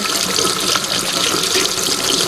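Tap water runs steadily into a sink while a makeup sponge is rinsed and washed with a bar of soap beneath the stream, a loud, even, close hiss with no break.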